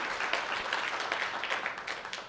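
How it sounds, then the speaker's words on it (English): An audience at a university investiture ceremony applauds, a dense, steady wash of clapping that holds at an even level throughout. "So I want us to take a moment to applaud Mike for all his contributions to the university"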